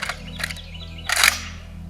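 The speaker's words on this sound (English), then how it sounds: "Loading the gun." An AK-50 rifle is loaded, producing a few sharp metallic clacks and a sliding rattle, with the loudest cluster near the end over a steady low hum.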